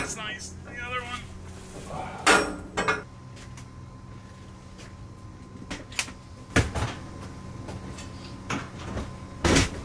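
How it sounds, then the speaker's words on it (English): A metal shipping container door on a neglected property is opened, giving several loud clanks and bangs spread over the clip. Scrapes and rattles come between the hits, and a person talks underneath. "This door isn't open as nice as the other one."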